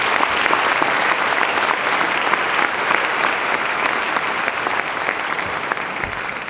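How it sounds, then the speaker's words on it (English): A convocation audience claps steadily and loudly for the full stretch, a dense, even wash of many hands with no voices standing out. "give all these lovely people a big round of applause"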